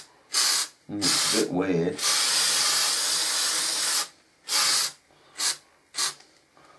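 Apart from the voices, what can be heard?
spray paint being sprayed onto a Hornby model station platform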